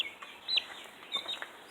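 Several chickens cluck and squawk softly nearby in short, irregular bursts.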